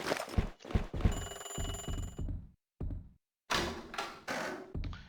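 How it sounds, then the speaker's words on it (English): A telephone bell rings in the video game Hidden & Dangerous Deluxe, a loud electronic trill that fits among heavy thuds and knocks, with a short gap of near silence before more clattering impacts. "The phone's ringing and nobody's gonna answer."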